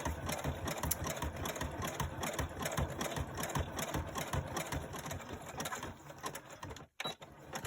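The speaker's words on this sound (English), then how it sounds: "and keep sewing" A sewing machine stitches through a thick corner of an old quilt layered with Amazon packaging, making a steady, close mechanical whirr with rapid needle ticking, then breaking off briefly near the end before resuming.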